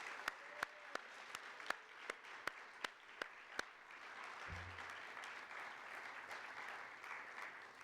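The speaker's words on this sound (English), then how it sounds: "let's give them another round of applause" An awards-ceremony audience claps in a run of sharp, evenly spaced hand claps, then the clapping spreads into a softer, continuous spatter of applause across the room.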